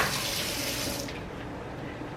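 Quinoa is rinsed under a running kitchen tap, a steady close rush of water that thins and quiets halfway through, no talk.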